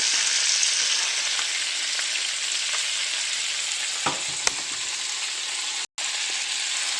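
Tomatoes and other vegetables fry in a pan for hillbilly hotshot sauce, giving a continuous loud sizzle with a couple of brief clicks of stirring and no talk.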